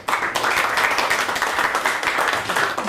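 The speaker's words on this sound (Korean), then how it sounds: "같이 반갑다는 마음으로 박수" Applause from a gathering of party members at a Busan city party meeting, dense and continuous clapping close by that starts abruptly and holds steady without voices.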